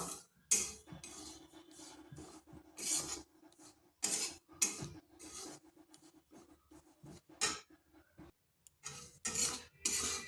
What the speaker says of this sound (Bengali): শুকনো কড়াইতে সুজিটা একটু ভেজে নেব